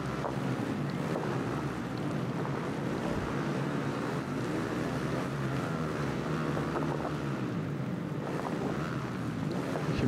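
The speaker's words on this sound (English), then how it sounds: "You can hear the noise of all the bikes and stuff." Motocross bikes roar as they race on a dirt track in the game MXGP 2020 on PS5, a dense, continuous engine drone mixed with rushing noise. It stays steady and fairly loud throughout, with no talking.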